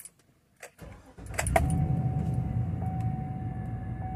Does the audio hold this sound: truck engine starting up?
yes